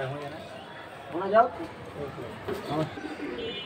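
High-flying Giribaz pigeons coo softly at a pigeon market, a few low murmuring calls mixed into a noisy crowd while people talk nearby.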